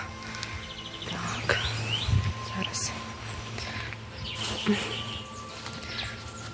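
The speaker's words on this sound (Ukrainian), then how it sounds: "Боже, як гарно співають пташки." Birds sing and chirp in a spring garden where daffodils bloom, with scattered calls and rustling over steady background noise, while someone speaks nearby.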